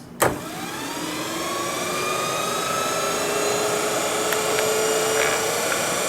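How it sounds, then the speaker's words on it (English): The electric motor of a Jeep CJ7 EV conversion, set on an engine stand with no load, winds up after a sharp switch click into a steady rising whine with harmonic tones that holds near and loud. "we're going to run it up without anything."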